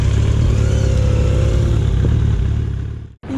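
A Suzuki Hayabusa motorcycle engine runs loud and close with a steady throbbing roar for about three seconds, then cuts off abruptly and briefly restarts.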